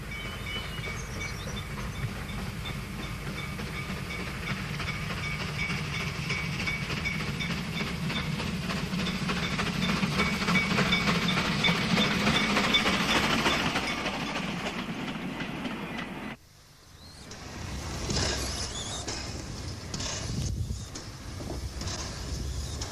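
Baxter, an 1877 Whitehaven-built steam locomotive, runs on the Bluebell Railway, a steady rolling rumble with rhythmic clickety-clack of wheels building and passing, then a brief drop before quieter rail noise resumes.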